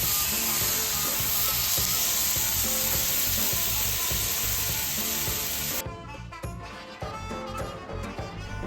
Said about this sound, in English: I'm going to start by searing the fat side first, making sure that renders down nicely